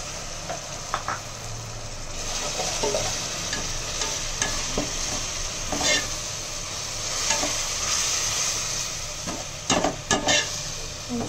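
Ginger garlic paste fries in hot oil in a pot for prawn biryani, a continuous sizzle broken by repeated scraping stirs and occasional clinks of a spoon against the metal.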